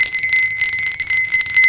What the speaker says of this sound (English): you can get kind of a ringing, a bell-like sound, like that one